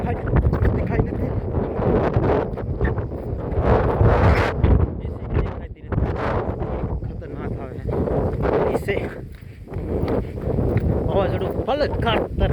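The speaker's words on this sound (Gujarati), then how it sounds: "વાવાઝોડું જોઉં થોડું જોરદાર આવ્યો કઈ દેખાય નથી." A strong storm wind roars and buffets the microphone in heavy, uneven gusts, loud and close, with rumbling surges and brief lulls throughout.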